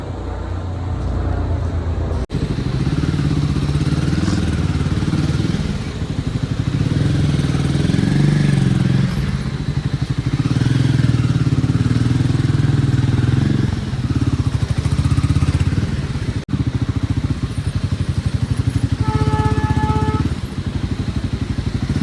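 A motorcycle rides along a mountain road near Sonprayag on the Kedarnath route, its engine droning loud and steady for the whole stretch, with wind and road rumble.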